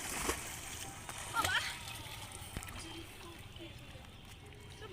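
Water splashes several times in sporadic bursts as someone bathes in the Ganges, the splashes fairly faint against the river's background, while people talk throughout.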